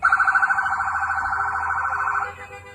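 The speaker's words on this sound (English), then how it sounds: "federal vehicles start moving toward the maroon SUV, with sirens and lights blaring" Federal vehicle sirens wail loud and close, a rapid pulsing electronic yelp that settles into a steady tone before cutting off abruptly near the end.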